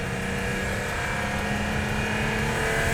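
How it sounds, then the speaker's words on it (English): A 2021 Toyota Supra MK5 with a catted downpipe and its exhaust in sport mode, giving a loud, continuous drone that holds steady throughout with no talk. "the exhaust can really just lash out whenever I put it in sport"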